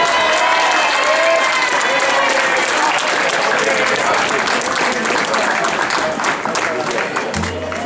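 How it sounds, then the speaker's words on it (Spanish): A crowd at a village festival opening proclamation in La Paúl applauds loudly and steadily, dense clapping holding for about eight seconds before easing slightly near the end. "¡Un aplauso!"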